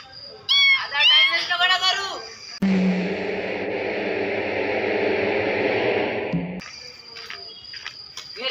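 A voice imitates a parrot with a burst of high, chirpy squawks, followed by a long stretch of steady hissing noise.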